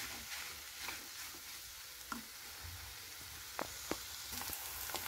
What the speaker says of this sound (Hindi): देखिए सब्जियां अच्छे से भुन जाए, इसको उतना ही पकाना है, बस क्रंच बना रहे हैं।